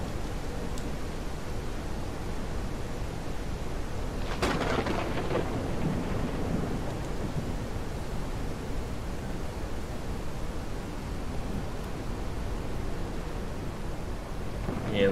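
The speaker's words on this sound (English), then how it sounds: "Storm has been going on for a little bit." Thunderstorm with heavy rain in The Isle video game, a constant dense roar of rainfall with a rumbling thunder crack partway through, steady and enveloping.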